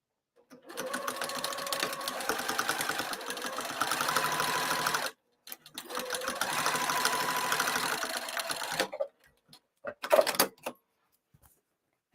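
A domestic sewing machine back tacks while stitching a cross-body bag, running in two long, steady bursts of rapid mechanical whirring separated by a short pause, then a few quick stops and starts, close and clear.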